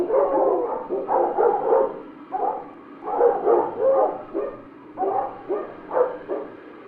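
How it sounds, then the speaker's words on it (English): Several dogs barking loudly near dawn in a game scene, a repeated chorus of barks and yips in bursts with short gaps, steady and close throughout. "They're barking loudly, but none of them are biting each other."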